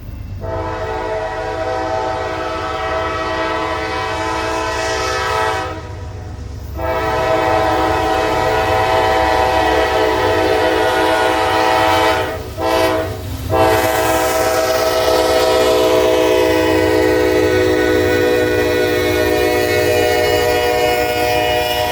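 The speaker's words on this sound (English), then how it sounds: "NS288 would roll through Stevenson onto CSX trackage with a pair of AC44 C6Ms leading the way" A Norfolk Southern freight train led by a pair of AC44C6M locomotives rolls past loudly and close by, with long repeated blasts of the air horn over the rumble of the train and a drawn-out passing roar.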